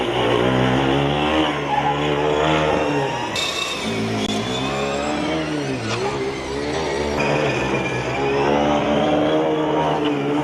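Formula Student race cars at Formula Student Germany 2021 driving the endurance event, a loud, steady engine roar near the track with rising and falling revs as cars pass, plus a sharp high whine partway through.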